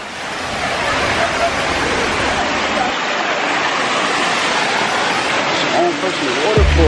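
A waterfall at an indoor event venue gives a steady, loud broadband rush of falling water, with voices faintly underneath and a brief voice near the end.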